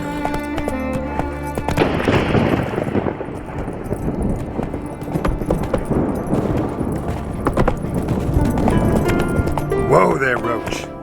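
Geralt's horse Roach gallops in The Witcher 3, with steady, rhythmic hoofbeats pounding close and loud over ambient game sound while voices talk over the ride.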